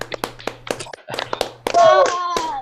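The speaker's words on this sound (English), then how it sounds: "give a huge round of applause and thank you to the ARKAI duo" Scattered clapping and hand taps from a small online workshop audience come through unmuted microphones, uneven and separate rather than a unified round, with a voice and brief talking mixed in.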